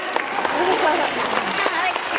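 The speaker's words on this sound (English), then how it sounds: "How about a round of applause for them?" Audience applause at a pelican and parrot show in Singapore Bird Park, a brief burst of crowd clapping heard close and fairly loud, with faint voices mixed in.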